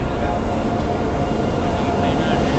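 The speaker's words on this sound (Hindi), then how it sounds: "ये WP7 लोकोमोटिव साथ आई देखो" A WP7 locomotive pulls in with the Visakhapatnam Swarna Jayanti Express at an Indian railway station, a steady broad rumble of rolling train noise at moderate level throughout.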